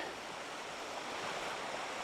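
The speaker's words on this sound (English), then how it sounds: "I like rapids." Faint, steady hiss of river rapids on the Appomattox River running over rocks, a continuous distant wash of water with no other sounds.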